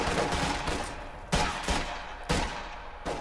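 A Company of Heroes 2 battle with infantry engaging Volksgrenadiers from cover, filled with sustained, dense rifle and machine-gun fire, punctuated by several louder, sharper volleys at roughly one-second intervals.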